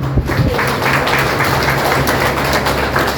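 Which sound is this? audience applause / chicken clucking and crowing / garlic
audience applause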